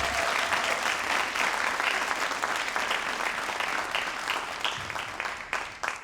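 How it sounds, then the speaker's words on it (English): Sustained applause from a large audience at a school Sankofa celebration, dense steady clapping that holds loud for several seconds before thinning out and tapering near the end, with no talking over it. "another round of applause"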